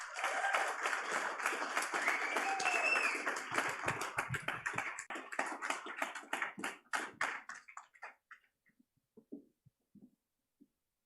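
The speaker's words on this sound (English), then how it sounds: "Big round of applause for Algatex." Audience applause for a startup pitch team at a biotech showcase, dense clapping that thins into scattered individual claps and fades out, fairly quiet overall.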